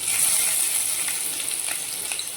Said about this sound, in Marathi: ऑइल गरम झालं की आपण त्यामध्ये ॲड करूयात कांदा